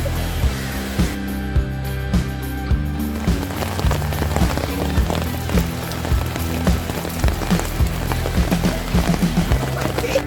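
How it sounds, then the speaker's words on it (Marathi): A sudden rain shower comes down on a friends' monsoon picnic at a park near Thane. It is a dense, close patter on surfaces, mixed with rhythmic music and thumping beats. "अचानक पाऊस आलेला आहे बघा"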